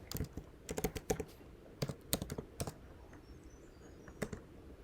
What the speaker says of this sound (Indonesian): lakukan pencarian dengan mengetik mentimeter.com